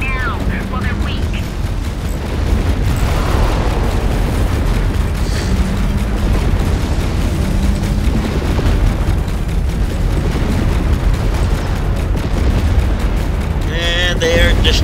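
An enemy pirate ship is destroyed in a space battle: loud, sustained rumbling explosions and booms roll on continuously, with brief tonal blips and bursts rising above the roar.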